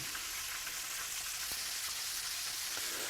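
Catfish fillets frying in a hot pan give off a steady, fine crackling sizzle, close and moderately loud, running evenly throughout with no voices.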